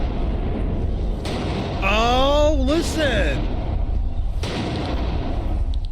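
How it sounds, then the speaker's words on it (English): Video game gunfire reverberating down a corridor: sharp blasts ring out with a long echoing tail over a steady rumbling backdrop, while a voice exclaims excitedly in the middle. "You don't only hear the gunshot, you hear the blast"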